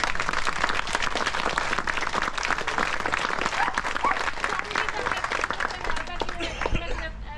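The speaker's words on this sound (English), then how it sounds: "can we just give our volunteers a round of applause?" Crowd at an outdoor parkrun gathering gives a round of applause for the volunteers, brisk, dense clapping from many hands lasting several seconds, with some voices mixed in.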